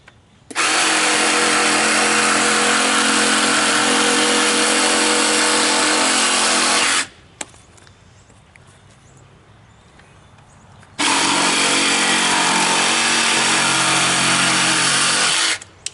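Cordless power tools whir loudly and steadily nearby during main gate repair work, running in two long bursts with a quieter pause between them.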